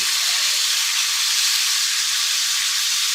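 Venison heart steaks sear in a hot pan, pressed down to build a crust, giving a loud, continuous, dense sizzle throughout with no talking.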